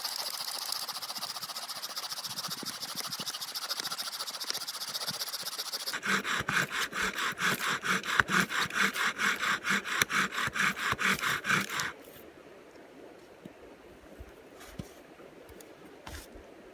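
A dry willow spindle twisting against a white spruce driftwood baseboard in a friction fire, first a soft hiss, then a loud, rhythmic back-and-forth rasping close by for several seconds before dropping back to quiet.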